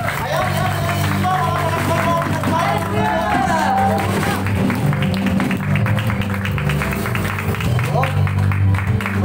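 A congregation at an El Shaddai thanksgiving anniversary gathering in Baguio, Benguet bursts into loud, sustained clapping and cheering that builds into rapid rhythmic claps, with a voice speaking over it.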